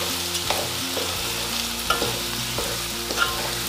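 Green peas pulao being stirred in a pan, with close scraping and sizzling and a few sharp clinks of the spoon against the pan at irregular intervals, and no talking.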